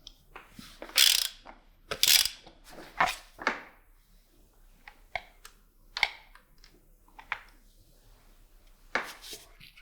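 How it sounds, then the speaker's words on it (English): Ratchet wrench on a Mercedes-Benz SL320 engine during coil pack and spark plug removal, heard as short, separated bursts of clicking and mechanical rattles with quiet gaps between them, close and fairly faint. "Now we need to remove coil packs and spark plugs to check the spark and if injectors are working."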